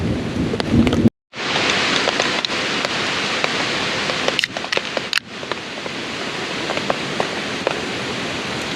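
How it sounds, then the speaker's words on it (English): Heavy rain from a Fourth of July thunderstorm on a hike pours steadily and loudly, close by, with a brief dropout early on and low rumbles of thunder beneath the hiss. "But here's definitely some thunder going on, so good thing I brought the tarp up."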